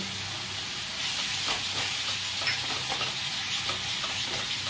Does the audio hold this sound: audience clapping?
no